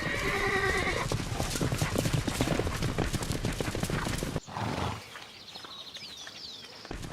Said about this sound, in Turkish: Dört nala koşan bir at saatte 45 kilometre hızda yolculuk eder.